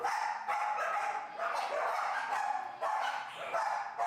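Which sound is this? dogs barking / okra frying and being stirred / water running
dogs barking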